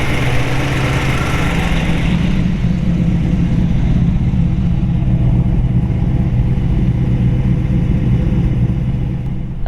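A 1934 Ford Sedan Delivery resto-rod with a ZZ430 engine idles steadily nearby, a continuous low rumble that holds even throughout with no talking.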